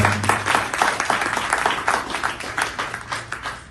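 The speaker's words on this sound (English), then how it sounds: "Big round of applause for them." A crowd applauds a title sponsor at a ceremony for the American Premier League in Connecticut, lively uneven clapping with distinct hand claps, fairly close and loud, fading slightly toward the end.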